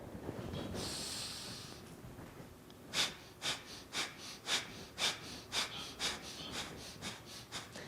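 Rapid, forceful rhythmic yoga breath-of-fire breathing, a steady train of sharp exhales about two per second, close and clear with no talking.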